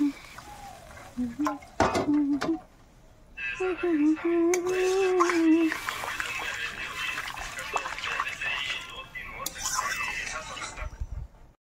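Hot water poured into a pot of boiling potatoes makes a steady, loud rushing splash lasting several seconds. A few metallic clanks and brief talk come before the pour.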